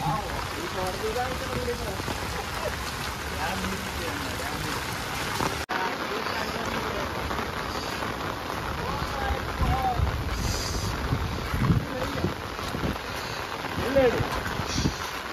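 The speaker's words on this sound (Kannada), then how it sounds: "ಕೋಡಿ ಹೊಳೆಯಲ್ಲಿ ರಭಸದ ನೀರು ನೀವೀಗ ನೋಡ್ತಿರ್ಬಹುದು" Fast-flowing river water at Kodi Hole gives off a loud, constant rushing roar that holds steady throughout, with brief faint sounds now and then.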